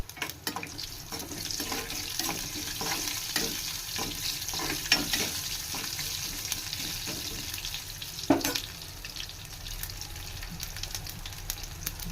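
Mustard seeds, cumin, chana dal and dried red chilies fry in hot oil for a South Indian sambar rice tempering, a steady close sizzle with small pops and a few stirring clatters, no talking.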